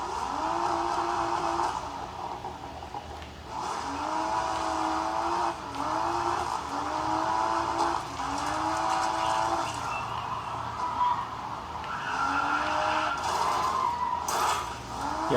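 Racing video game audio on a laptop: engines rise and fall through repeated gear shifts, with tire squeal and skidding layered in a continuous, moderately loud stream and no speech.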